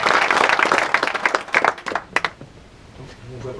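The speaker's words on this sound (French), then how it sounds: "je crois qu'on peut applaudir Nino Ferreira" Applause from a small crowd, steady clapping that thins out into a few scattered claps, with a voice speaking over it.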